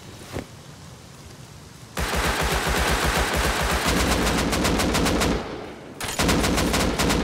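Rapid automatic AK assault rifle fire in the survival game Rust, long loud bursts of evenly spaced shots with a brief pause before another burst, no talking.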